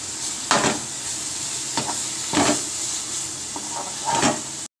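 Onions and spices sauté in a pan for paruppu urundai kulambu, giving a constant close sizzle broken by several scraping stirs of a spoon.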